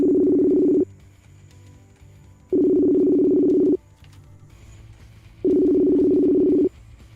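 Three long, loud low-pitched tones sound about a second each, separated by pauses, like a phone line ringing while waiting for an answer.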